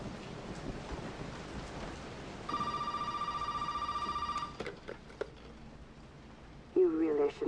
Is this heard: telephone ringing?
yes